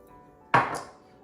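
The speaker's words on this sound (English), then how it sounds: "I just do a couple slices and chop it up" A single knife chop through onion slices on a cutting board in a home kitchen, one sharp close thud with a brief ringing tail, alone in quiet.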